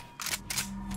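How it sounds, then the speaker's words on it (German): In Metal Gear Solid 5, a weapon reloads with two quick, crisp mechanical clacks in under a second, followed by a low steady hum. "Ich muss nachladen, verdammt."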